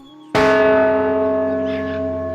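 A single loud cartoon bell strike with a sharp attack, its rich ringing tone sustaining and slowly fading over two seconds.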